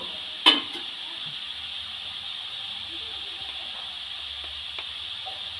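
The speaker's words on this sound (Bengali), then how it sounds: "ফুলকপিটা খুব ভালো করে তেলের সঙ্গে নেড়ে নিচ্ছি" Grated cauliflower is stirred and fried in oil for gobi paratha filling, a soft, steady hissing sizzle broken by one sharp clink of a utensil near the start.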